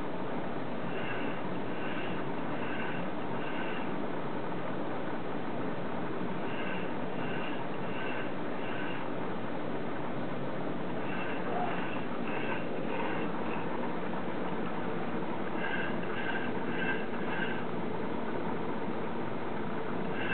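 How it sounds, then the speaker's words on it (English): A Quanser SRV-02 servo motor runs with a steady mechanical whir and bursts of repeating high whine, near and continuous over a noisy background. "And here's the motor actually running."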